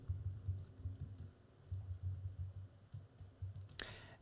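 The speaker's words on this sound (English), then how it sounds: "And then we're going to type hello world." Quiet, close typing on a computer keyboard, irregular bursts of soft key clicks with short pauses and one sharper click near the end, no talk.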